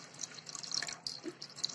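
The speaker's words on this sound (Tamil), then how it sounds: "இதில் ஒரு அரை லிட்டர் தண்ணி ஆட் பண்ணிக்கலாம்." Water poured from a vessel into a heated kadai on the stove while cooking potatoes, a soft trickling and dripping splash over about two seconds, quiet and close with no talk.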